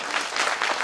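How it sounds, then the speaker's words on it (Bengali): Audience at a dargah Urs gathering applauding, a dense burst of many hands clapping together, loud and sustained without voices on top. "আমি চাইবো তাদের জন্য একবার ফাটাফাটি ভাবে হাততালি"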